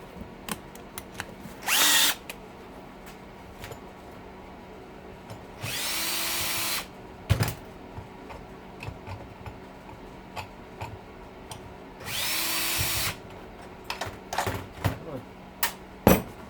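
Power drill backing screws out of sheet aluminum on a disassembled motor housing, several short whirring bursts of a second or so separated by quiet gaps with scattered clicks and clatter, close by.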